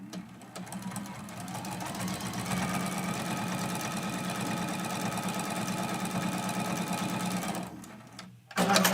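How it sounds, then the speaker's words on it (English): A sewing machine stitches a quarter-inch seam through quilting fabric, a fast steady mechanical whir that runs without pause for several seconds, then stops abruptly before a brief clatter. "we're sewing that seam with a 1/4 inch seam allowance."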